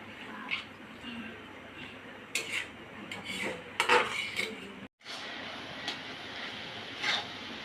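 A utensil scrapes and knocks against a cooking pot while pumpkin is stirred in milk, irregular close clinks and rubbing strokes over a soft bubbling background, with a brief gap midway.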